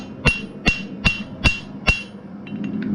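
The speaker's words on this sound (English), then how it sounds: "Then you're gonna start hammering." Five sharp, ringing hammer blows strike hot metal at an even pace while forging a hook, close and loud, followed by fainter lighter taps.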